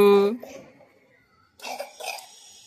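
A child coughs sharply once at close range, followed by softer, murmured household voices.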